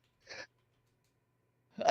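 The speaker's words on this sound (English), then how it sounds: "Sorry, I was just sneezing." A person gives a short sneeze-like burst, then after a quiet pause a louder second burst starts at the end, both close to the microphone in an otherwise silent room.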